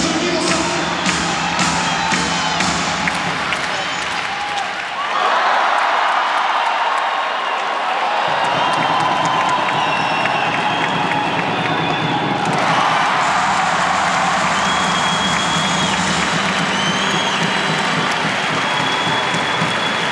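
Several thousand hockey fans at a fan day for the Salavat Yulaev club in Ufa cheer and applaud loudly and continuously, a dense roaring crowd with clapping and shouts throughout.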